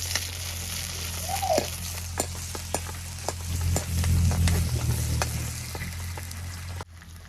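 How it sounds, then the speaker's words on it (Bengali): Chopped onions sizzle loudly in hot mustard oil in a pan, a continuous frying hiss broken by sharp clicks and scrapes of stirring, with a louder surge midway before the sound suddenly drops near the end. "তেল গরম হয়েছে, এখন আমি পেঁয়াজ কুচি দিয়ে দিই।"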